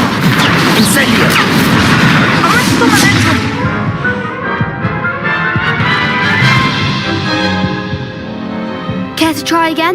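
A fiery whooshing roar from the Incendio spell being cast in a Hogwarts video game, loud and sustained, with crackling bursts and game music or voices underneath.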